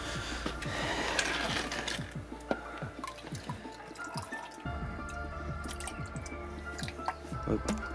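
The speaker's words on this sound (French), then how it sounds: "Tu vides ça dans le bidon." Dirty radiator coolant poured from a jar into a canister makes faint trickling and dripping liquid sounds with soft splashes, quiet and close, while people talk in French over the pouring.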